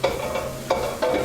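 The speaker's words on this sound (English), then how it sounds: "The light frying helps to bring the flavours out quickly" Dry herbs are lightly fried in a pan for a budget bolognese sauce, giving a steady sizzle with a few sharp scraping strokes as a utensil stirs them.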